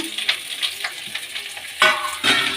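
Okra frying in cooking oil in a pan, stirred with steady scraping and crackling sizzle, close and loud, with a sharper burst of stirring near the end.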